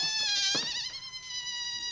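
A balloon's mouthpiece squealing under pressure, a high wavering whine that bends in pitch like a cat's meow, fairly close with a brief dip midway.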